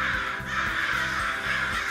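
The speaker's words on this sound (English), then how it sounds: "Why are the birds chirping so loudly all of a sudden?" Loud crows caw over and over in a forest, harsh calls coming in a steady, rhythmic series of about five bursts, close and dense against a constant background of other birds.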